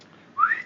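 A single rising voiced whistle imitating someone calling an attack dog, short and fairly close, bright and tonal against a quiet background.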